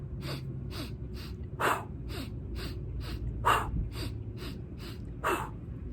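Rapid trauma-breath breathing exercise: a dozen short, sharp breaths in a steady quick rhythm, with a few louder gasping inhales standing out, close and alone without talk.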